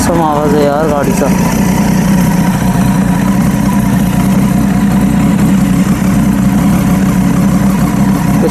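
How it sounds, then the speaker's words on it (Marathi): A motorcycle idles after a cold start, a loud, close, steady engine rumble with a brief rev flutter at the start and no talking over it. "खूप ऑसम आवाज आहे यार गाडीचा"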